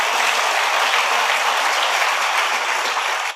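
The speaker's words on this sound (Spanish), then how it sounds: "Dale un aplauso al Rey bendito." Church congregation applauding together in a steady, dense wash of clapping that holds loud and even for about three seconds before cutting off abruptly.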